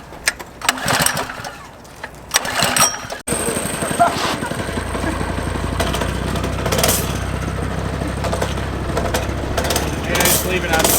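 A small engine sputters through a few rough pull attempts with the choke on, then catches and runs with a steady loud drone. Voices talk over it.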